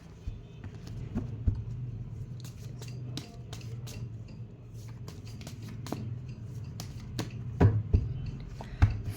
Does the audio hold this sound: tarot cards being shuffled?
yes